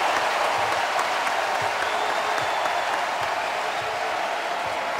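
Basketball crowd at a Duke Blue Devils home game against Davidson roars and applauds as a player comes off the bench, a dense, sustained wash of cheering and clapping from a large arena.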